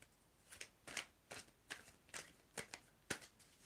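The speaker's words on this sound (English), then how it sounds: "I want you to tell me when to stop shuffling" Tarot cards are shuffled by hand in a series of crisp riffling bursts, about eight quick shuffles spaced roughly half a second apart, close and fairly quiet.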